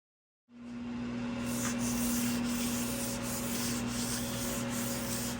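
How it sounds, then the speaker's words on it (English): Steady, continuous rasp of sandpaper being rubbed back and forth on a 1985 Jeep CJ7 door with a sanding block, close and even, with no talking. "I've been block sanding these doors for probably an hour and a half, 2 hours."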